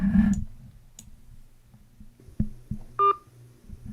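Telephone dialing sounds played from a recorded scam call: sparse clicks and ticks, then a brief clear dial tone and a final click, quiet and alone with no talk.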